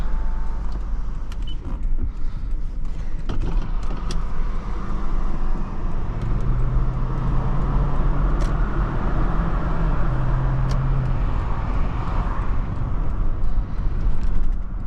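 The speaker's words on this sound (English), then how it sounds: "And there's excellent pull from this V8." A 2008 Lexus LX570's V8 pulls strongly on a test drive, a loud, steady engine drone with road roar and a rising tone in the middle, heard from inside the cabin.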